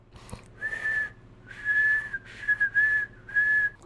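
A man imitates loud whistling with a string of about five close, bright whistled notes in quick succession, alone with no talk over them.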